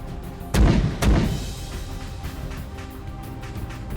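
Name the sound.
mortar artillery volley firing in video game Arma 3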